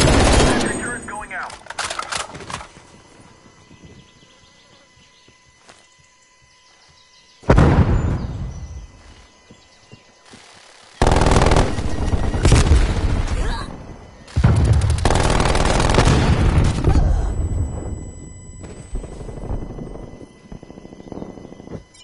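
Rapid bursts of automatic gunfire from a sentry turret in Call of Duty: Black Ops Cold War multiplayer, loud and close, with heavy blasts, short pauses between volleys and in-game voice lines mixed in.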